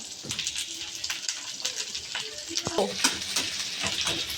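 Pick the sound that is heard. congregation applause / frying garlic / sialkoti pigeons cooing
frying garlic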